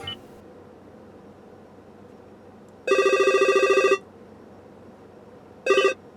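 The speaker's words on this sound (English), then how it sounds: "you have several different ringtones to pick between" Toyota Entune 3.0 in-car phone ringtone sounding alone over a low hum: a rapid electronic trill lasting about a second, then a second short burst after a pause.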